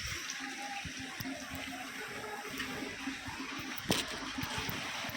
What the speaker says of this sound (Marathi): चला तर मित्रांनो भरते मी पाणी आता.